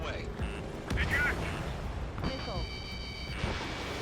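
Ace Combat 7 combat flight with a missile launched at a target, a whooshing release followed by a muffled blast under constant jet engine roar, with a voice speaking over the action.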